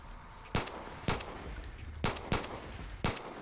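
Far Cry New Dawn gunfire aimed at a skunk: evenly spaced single loud shots, about six in three seconds, each a sharp crack over a low steady game background.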